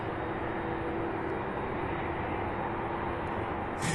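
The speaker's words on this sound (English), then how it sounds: "It looks like we have that United also taxiing this way" A United airliner taxis at Louisville International Airport, its engines producing a steady, broad roar that holds at an even level throughout, with no voices present.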